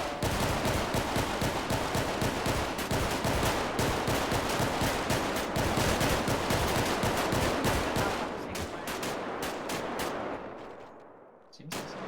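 Rapid, loud bursts of gunfire from police cadets shooting on a firing range, a dense continuous stream of sharp shots close by that thins out toward the end, with faint voices underneath.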